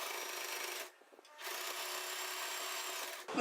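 A sewing machine stitching the sides of a handmade purse, a close, even mechanical whir that runs for almost a second, pauses briefly, then starts again and runs steadily.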